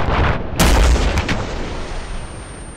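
Rocket fire and a heavy explosion in the military shooter game ArmA 3: a sharp loud blast followed by a booming roll that slowly fades, alone without voices.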